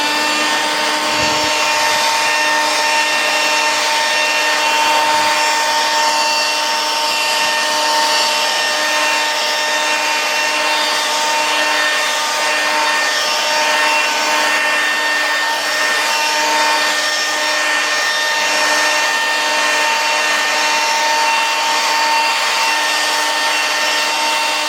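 A Makita 456 CFM leaf blower runs continuously, close and loud, with a steady high-pitched whine and airy roar that holds for the full stretch, no speech.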